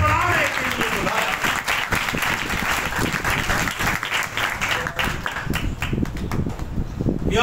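Sustained, dense applause fills a church worship service, a loud close crowd clapping steadily from start to end without a break.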